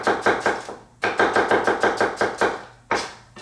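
Rapid knife strokes slice through an onion on a cutting board, one quick run of chops, a short pause, another longer run, then a final stroke, all close and crisp with no talk.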